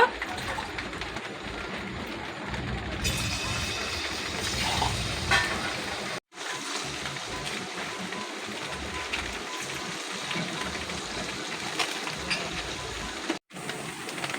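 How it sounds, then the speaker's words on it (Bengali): Palm fruit fritters (taler bora) deep-frying in hot white oil in a kadai, a dense, continuous close crackle and bubbling sizzle that holds steady throughout, broken by two brief silent cuts. "এবার আমি তালের বড়াগুলোকে ভেজে নেব।"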